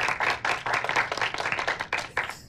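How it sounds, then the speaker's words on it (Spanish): Applause from a small group at a ten-year-old girl's birthday celebration, moderately loud, rapid, slightly uneven hand claps lasting about two and a half seconds, with no talking over them. "Un fuerte aplauso, por favor."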